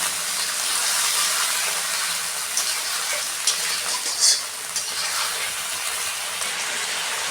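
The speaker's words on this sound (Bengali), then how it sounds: "আমি এখন যে মশলাটা করে রাখলাম দিয়ে দেবো ভালো করে একটু ভেজে দেবো যেন মশলার কাঁচা গন্ধ চলে যায়" Spice paste for chicken frying in a pan, a loud continuous sizzle and hiss with stirring scrapes and a few brief sharper clatters near the middle, close up.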